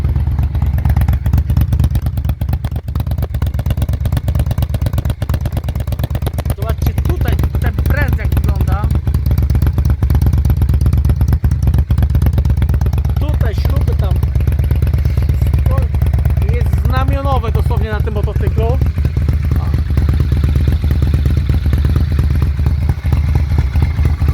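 A 2006 Honda VT 600 Shadow VLX motorcycle engine idles steadily and loudly throughout, with a person speaking over it at times.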